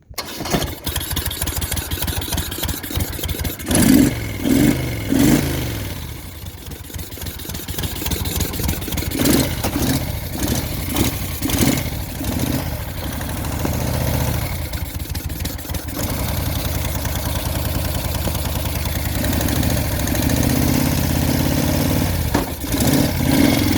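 A cold 1973 Moto Guzzi Eldorado motorcycle with choke on cranks over several times, catches and settles into a loud, steady idle with uneven throttle swells, close by and without talk.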